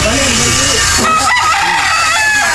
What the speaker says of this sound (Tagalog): tumitilaok ng mga manok, mga pato.